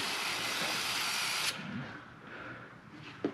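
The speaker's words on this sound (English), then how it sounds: "a little extra spray over here" A steady, bright aerosol hiss sprays for about a second and a half, then cuts off, leaving quieter background noise and a brief knock.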